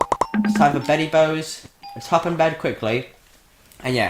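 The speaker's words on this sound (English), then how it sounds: "that's the alarm going off. Our alarm bell." An alarm bell in the video game Minecraft rings in brief bright dings, once at the start and again a moment later, heard under a person talking.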